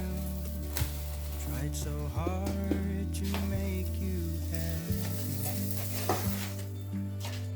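Zucchini and egg frying in a pan for breakfast, just flipped to the other side: a steady close sizzle runs throughout, with a low hum and faint clinks underneath.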